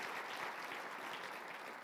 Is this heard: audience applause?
yes